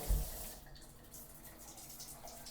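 Water drains steadily down an unclogged shower drain after the shower is turned off, a soft continuous gurgling wash that starts a little louder and stays even and faint.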